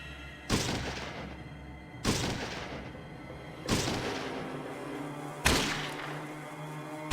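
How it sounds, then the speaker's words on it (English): Plasma turrets firing in the video game Fallout 2, four heavy booming shots spaced about one and a half seconds apart, each a sharp loud blast followed by a fading ringing tail. "The plasma turrets hit hard."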